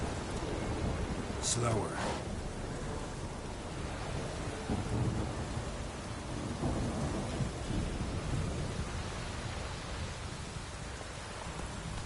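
Thunderstorm in The Witcher 3 game, with steady heavy rain and low rumbling thunder rolling throughout, a brief sharp crack early on, and a voice speaking briefly over it.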